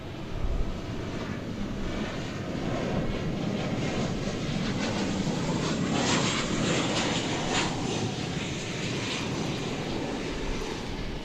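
An airliner bound for Helsinki at DFW Airport, a broad roaring jet engine rumble that holds steady and swells slightly as it passes, heard from a distance with no talk.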